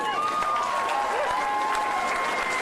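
A crowd applauding Barack Obama, dense steady clapping filling the whole moment with a tone mixed in above it.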